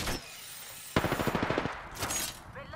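Eva 8 shotgun shots in Apex Legends come as a rapid string of loud, punchy blasts in a steady rhythm, followed by a gap and a smeared burst of gunfire and impact noise.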